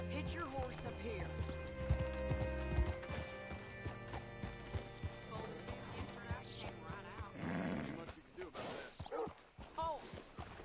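Horse hooves clop and a horse whinnies in the Red Dead Redemption 2 video game, set against steady ambient tones, with speech and other game sounds mixed in and a louder whinny near the end.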